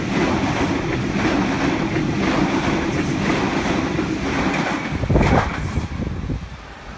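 A Waratah electric passenger train runs through a Sydney suburban station without stopping, a steady loud rumble of wheels and clattering carriages that rises to a surge near the end as the cars sweep past close by.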